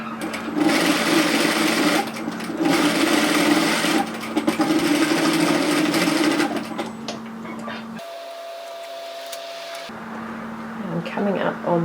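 Sewing machine stitching a side seam on a tiered dress, a fast rattling hum in long bursts that stops briefly before restarting, close and loud, with a voice talking alongside.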